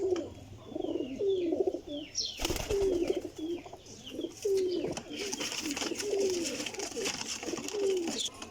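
Teddy pigeons with feathered feet coo in repeated low, rolling phrases, a steady rhythm of calls close by, with a brief burst of louder noise partway through and faint higher chirps in the background.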